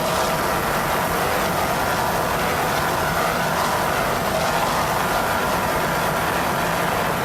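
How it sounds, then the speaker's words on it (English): Offshore powerboat racing engines from Merrick Racing at the 1994 Jacksonville Offshore Grand Prix, a dense steady roar mixed with wind and water noise, loud and continuous with no voices. "Those Merrick Racing engines sound excellent."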